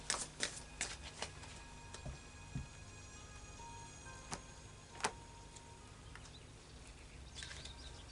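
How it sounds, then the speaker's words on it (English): Oracle deck cards shuffled by hand in a quiet room, with a series of soft riffling flicks and papery taps at an uneven pace, faint and close. "I'll do another shuffle so we can have some clarifiers."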